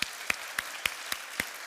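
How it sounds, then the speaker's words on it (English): At the closing event of the Brainport Research EAISI gathering, an audience applauds with a steady hiss of clapping, marked by regular sharper claps that stand out about every quarter second. "So give them a round of applause because they're all the organization."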